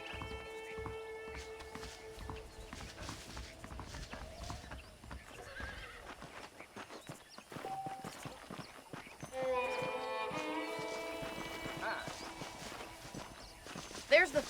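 Horse hooves clip-clop at a steady riding pace in Red Dead Redemption, with occasional whinnies, under spoken dialogue and background music.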